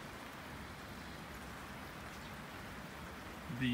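Steady rain patters on a Kodiak Canvas Cabin Tent (6133) with wall enclosure, a dense even hiss of drops on canvas throughout, with a slightly louder burst near the end.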